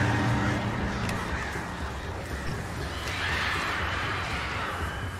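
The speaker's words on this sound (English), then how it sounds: "Oh, birds." Crows caw in the Alan Wake Remastered video game, harsh calls repeating over a dense, loud wash of game ambience and noise throughout.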